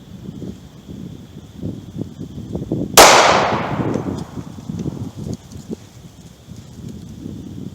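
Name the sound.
9mm 135 grain +P Critical Duty gunshots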